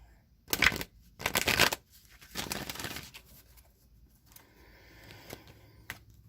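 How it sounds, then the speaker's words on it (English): An oracle card deck is shuffled in three loud, rapid riffling bursts, followed by softer scattered card flicks and taps, heard close and alone with no talk. "one more shuffle"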